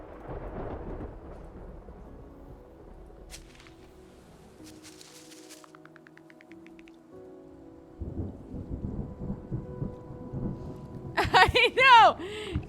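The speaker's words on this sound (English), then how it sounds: "We got a storm a brewing." A thunderstorm with rain in the video game Terra Nil: a steady wash of rain, then deep rumbling thunder swelling in the second half, with sharp brighter game sounds near the end.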